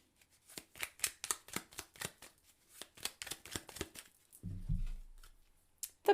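Tarot cards are shuffled by hand in a quick run of crisp riffling flicks. The shuffle ends in a soft muffled thud as a card is drawn and set down, followed by a faint tap, all close and quiet.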